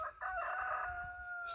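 A farm rooster crows among a flock of chickens: one long, drawn-out call rings out close and clear over a low background rumble.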